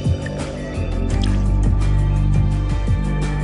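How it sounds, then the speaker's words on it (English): Water is poured into a drinking glass by a magician, a close, continuous liquid gurgle with repeated small bubbly drips and glugs over a low steady rumble. "When the magician fills the glass with water, he must be careful to keep this hole covered."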